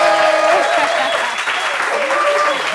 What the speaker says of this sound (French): L'applaudissement pour Brezinger, s'il vous plaît.